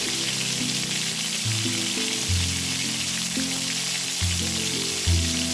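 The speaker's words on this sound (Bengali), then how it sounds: "এইভাবে করে আমরা ভেজে নেব" Eggplant slices fry in hot oil with a loud, unbroken hiss of sizzling throughout, while tonal background music plays underneath.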